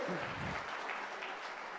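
Faint, brief applause from an audience at a talk follows a trailing voice, a thin even patter of clapping.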